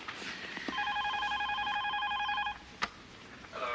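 A telephone rings in a steady electronic warble for about two seconds, fairly close and clear, followed by a sharp click as an answering machine picks up.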